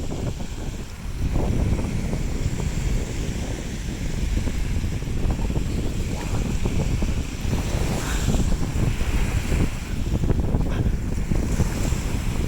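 Surf breaking on a beach in Valencia, Spain, with steady wind buffeting the microphone, a continuous loud roar of waves and gusts, no talking.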